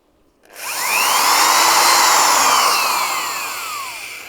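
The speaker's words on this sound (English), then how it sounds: "This is what's called a screw shooter. It's basically a drill." A screw shooter drill running on AC power from a portable power station spins up after a moment of quiet, whining loudly and steadily, its pitch sweeping up and then slowly sagging as it runs.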